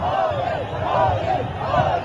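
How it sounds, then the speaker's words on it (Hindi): A large crowd at a BJP election rally welcoming Narendra Modi, a dense sustained roar of cheering voices rising and falling in waves. "श्री नरेंद्र मोदी जी की जोरदार तालियों के साथ मंच पर स्वागत करें"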